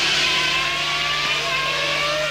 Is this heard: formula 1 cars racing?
yes